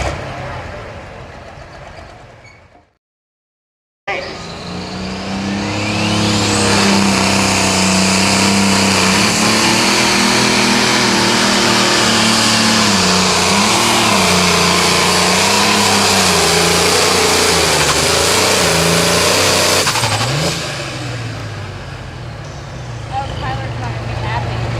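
At a tractor pull, a 9500 Limited Pro Stock tractor's engine howls under load down the track, a loud, sustained roar lasting about fifteen seconds after a brief silence, with an announcer talking throughout.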